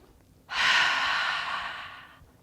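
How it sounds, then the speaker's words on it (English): A single deep, audible breath during a gentle evening yoga routine, with a sharp onset and a long, airy sigh-like exhale that fades over about two seconds, close and alone. "We'll do 2 more big breaths in just like that"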